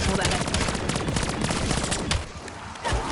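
Rapid bursts of gunfire from a legendary cannon in a shooter video game, loud and dense, with a short lull near the end before firing resumes.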